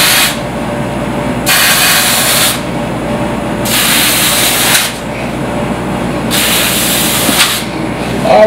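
Loud bursts of aerosol spray hiss in repeated sharp blasts, each about a second long, separated by short pauses.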